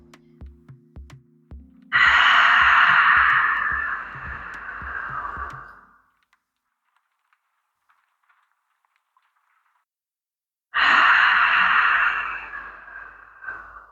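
Slow, deep breaths during a gentle somatic Pilates workout, with a long, loud airy exhale that fades out, a pause of silence, then another deep breath, close up and without speech.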